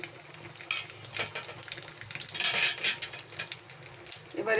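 Onions frying in hot oil with cumin seeds and a pinch of asafoetida, a dense close sizzle that swells midway, with spoon-stirring scrapes and light clinks against the pan, no talking.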